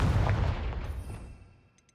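A Confringo blasting spell cast in the Hogwarts Legacy game, a deep booming explosion that hits at once and rumbles away over about two seconds, with a faint chime near the end.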